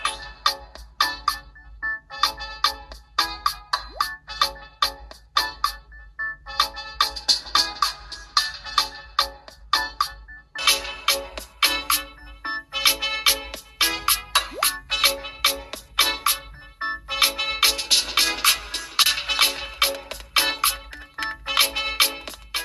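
A phone ringtone plays back repeatedly through the speakers of a Vivo Y51 and an Oppo A9 phone, a loud, bright, rhythmic chiming melody of rapid plucked notes that keeps going without any voices.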